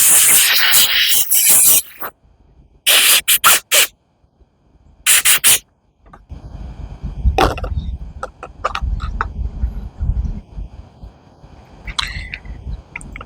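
Carburetor cleaner sprayed backward through a fuel pump check valve on a green Gardenline hedge trimmer, three sharp hissing bursts close by, followed by quieter low rumbling and handling noise.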